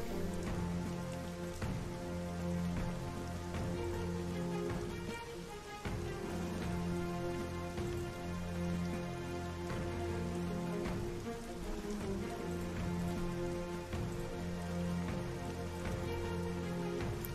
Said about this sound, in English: Rain, huh?